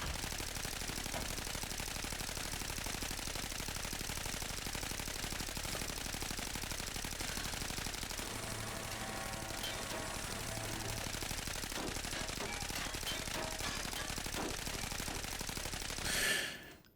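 A gun in the shooter Arena Breakout Infinite fires in a steady, rapid, buzzing automatic stream, sustained at moderate volume for a long stretch before cutting off abruptly.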